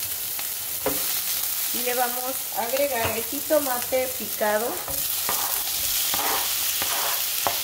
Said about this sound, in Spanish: a ponerle la cebollita a sofreír